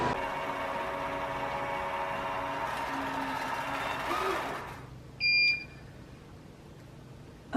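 A DEIK robotic vacuum cleaner hums steadily for several seconds, then falls quiet and gives two short high beeps as it docks, followed by a brief click.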